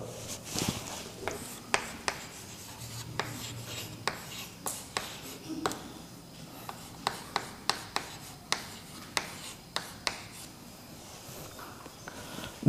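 Quiet scratching and tapping of writing examples on a classroom board during a chemistry lesson, a steady series of short strokes and taps, faint and close.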